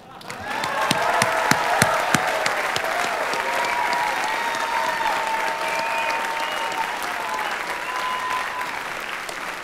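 Graduation audience at a Northwestern Engineering master's degree ceremony applauding the graduates, sustained even clapping from a large hall with faint voices and whistles mixed in.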